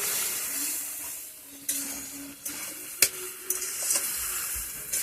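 Spice paste is sautéed and stirred in a pan, giving a soft, continuous sizzle broken by a few sharp scraping clinks of the spoon against the metal.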